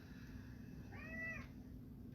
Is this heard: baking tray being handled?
no